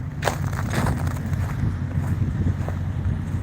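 Wind gusts across icy, glazed snow in a cold parking lot, a steady rough rush with low buffeting against the microphone and a few faint scuffs.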